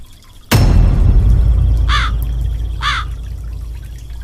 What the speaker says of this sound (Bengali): দেখো ওই কাকটা আমাদের পুকুর থেকে মাছ ধরে খাচ্ছে।